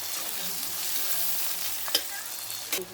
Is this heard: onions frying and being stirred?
yes